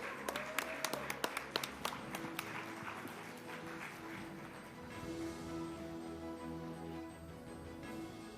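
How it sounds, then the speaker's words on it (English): An audience at a WPower event claps for guests Bhumi Pednekkar and Tamannaah Bhatia: scattered, distinct handclaps for the first few seconds, then sustained tonal music with no clapping. "please welcome them with a huge round of applause"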